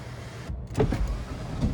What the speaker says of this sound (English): Now we're gonna hit that sunshade.